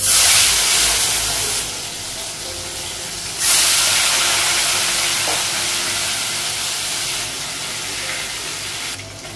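Fish coated with turmeric fries in a pan with a loud, bright hiss and sizzle that drops in level partway through, then surges again before settling.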